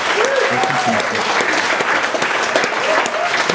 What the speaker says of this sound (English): A wee round of applause to everyone involved